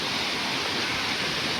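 A hidden waterfall near Ganpatipule on the Konkan coast rushes with a constant, even hiss of falling water, loud and unbroken for the whole moment, with no one speaking.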